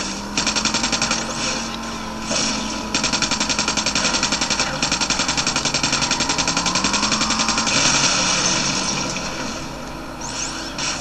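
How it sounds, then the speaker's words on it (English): Sustained rapid machine-gun fire in the video game Rage, dense rattling bursts that run almost without a break, loud and close, over a constant droning game soundscape. "I think I was being shot by something authority-ish"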